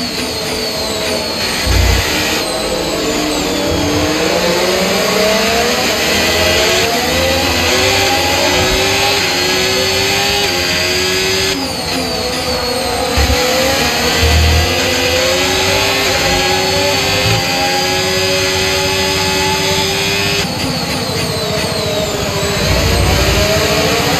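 The engine of an F1 car races in the video game F1 25 during the Canadian Grand Prix, a loud, high-pitched whine that rises and falls through gear changes and stays continuous throughout.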